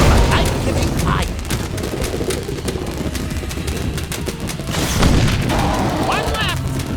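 Fireworks go off in the virtual-reality game Sam & Max: This Time It's Virtual!, a run of booming, crackling bursts layered over a dense, steady wash of noise, with a heavier blast near the five-second mark.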